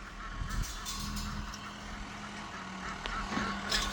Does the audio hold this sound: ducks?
yes